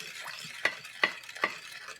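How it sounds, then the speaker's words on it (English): Sugar and water stirred in a pot on high heat, three distinct scraping spoon strokes over a soft simmering hiss, close and alone. "I'm going to mix until everything dissolves."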